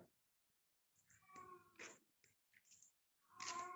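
Inside an abandoned church, a cat gives several short meows and drawn-out cries, close and clear against near silence, spaced irregularly with gaps of quiet between calls.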